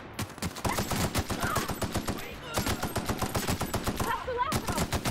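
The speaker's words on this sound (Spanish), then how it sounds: "Ensalada de tiros que te acabo de pegar" Rapid bursts of automatic gunfire in The Outer Worlds sci-fi shooter game, loud and continuous rattling volleys with brief pauses, a voice talking faintly underneath.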